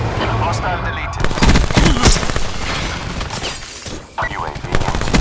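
Gunship cannon fire from aircraft in a combat video game roars in heavy, dense bursts with booming impacts, loud and close, while a voice talks over the barrage.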